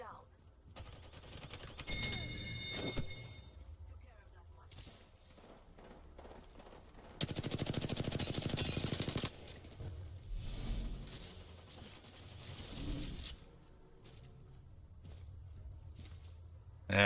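Bursts of automatic gunfire from an Apex Legends firefight, the loudest volley sustained for about two seconds midway, mixed with footsteps and game effects while a player talks over it.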